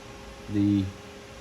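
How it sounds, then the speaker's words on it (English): A loud home ice maker runs with a low droning hum that swells for about half a second and then fades back to a quiet background. "So with me, it's the damn ice maker."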